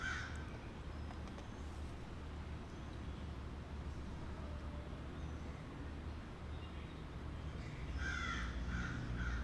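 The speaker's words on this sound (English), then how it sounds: "The morning crow." Crow cawing on a morning outdoors, repeated harsh caws over a constant low rumble of background traffic and wildlife, with a louder burst of calls near the end.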